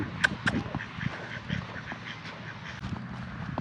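Ducks quack in a few sharp bursts, fairly close, with scuffling and movement sounds between the calls.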